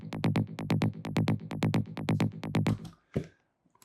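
High synth layer from a psytech track plays alone: a fast, even rhythm of short bright plucked notes skipping the first sixteenth of each beat, ending with a brief tail and a single lower hit.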